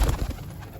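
A pigeon gives a brief, soft coo, a low throaty murmur lasting under a second, close by and alone.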